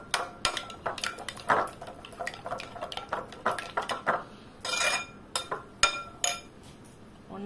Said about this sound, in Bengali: এটা ভালো করে ফেটিয়ে নিচ্ছি।